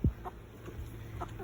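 Chickens cluck softly in a small group, with one brief near thump at the start and a few faint, scattered clucks afterward.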